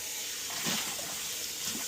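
Steady running water from a tap splashes over a pot being rinsed in a sink, a continuous hiss with slight surges, no talking.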